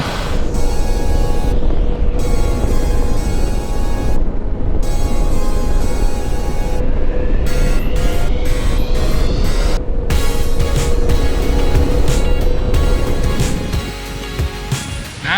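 A motorcycle cruises along twisty, smooth roads, its steady engine drone mixed with heavy rushing wind buffeting throughout, easing slightly near the end.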